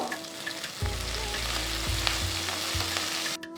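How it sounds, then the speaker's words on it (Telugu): Sliced onion, halved green chillies and curry leaves frying in hot oil in a pan for a Telugu pulagam chutney, a steady close sizzle with a few stirring knocks, no voices. "ఇప్పుడు నేను ఒక పెద్ద ఉల్లిపాయని స్లైస్ చేసి వేస్తున్నాను దీంతో పాటు మూడు పచ్చిమిరపకాయలు జస్ట్ మధ్యలో కట్ చేసి వేస్తున్నాను"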